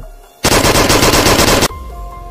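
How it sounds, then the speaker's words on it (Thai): Machine gun fire rings out at a provincial prison in Samut Sakhon, Thailand, as one loud, dense burst of rapid shots lasting just over a second, with quieter background sound before and after. "เสียงปืนดังขึ้นมาจากภายในเรือนจำจังหวัดสมุทรสาคร"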